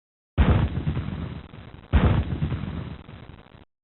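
Two heavy booms of artillery and musket fire from a Civil War battle roll out in sequence, each a sharp loud blast followed by a long rumbling decay, with no talk.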